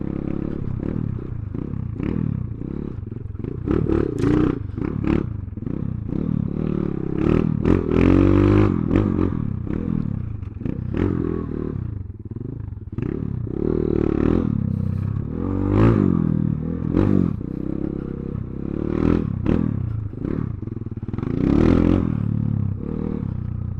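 A Kayo K2-230 four-stroke dirt bike engine runs with a barky, uneven idle and repeated throttle blips, loud and close with rattling mechanical clatter throughout.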